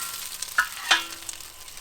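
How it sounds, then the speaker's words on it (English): An egg fries on a Firedisc cooker with a soft, steady sizzle, punctuated by two sharp metallic scrapes of a spatula against the hot disc, close by with no talk. "I'm going to fry it up on its own"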